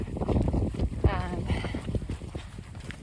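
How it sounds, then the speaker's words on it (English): Strong wind buffeting a microphone outdoors on the Kungsleden trail in drizzle, with low rumbling gusts and some rhythmic thumping underneath. "Very windy, as you can probably hear."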